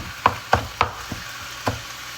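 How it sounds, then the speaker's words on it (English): A spoon stirs food in a cooking pan with five sharp scraping clacks spaced irregularly over a faint sizzle, close and clear with no voices. "So I'm gonna stir this up."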